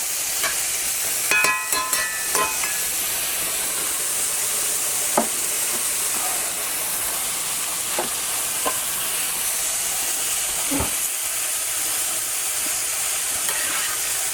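Mushrooms frying in butter in a pan, a steady broadband sizzle throughout with occasional clicks and scrapes of stirring, close and continuous.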